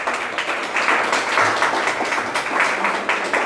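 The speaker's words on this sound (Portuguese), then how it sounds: "Então aplaudo o Senhor, já que vocês estão entendendo." A church congregation breaks into steady, dense applause during a pastor's sermon, many hands clapping together at a fairly close, even level for a few seconds.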